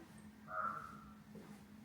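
A crow gives a single clear caw from a rooftop tower of a columbarium, heard at middle distance over a low ambient hum with a fainter call after it.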